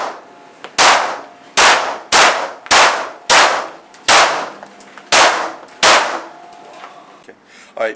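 Colt 1911 .45 caliber pistol modified to fire 9mm, shooting nine sharp reports in a steady, evenly spaced string, each a loud close crack with a brief ringing decay.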